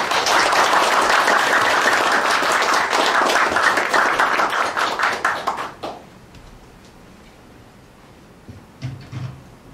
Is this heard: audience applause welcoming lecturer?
yes